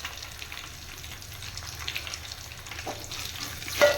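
Asafoetida powder fries in hot oil for a Tamil variety rice dish, a steady soft sizzle with scraping stirs and small crackles, ending in a louder clatter of the spoon.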